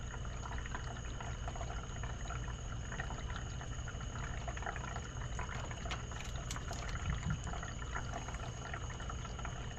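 Water steadily pouring into a 14-gallon overland water tank, a continuous dense rushing fill sound with no pauses, close and even throughout.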